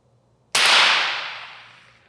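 A single sharp, loud crack with an abrupt onset, followed by a long ringing decay in a hard, echoing room.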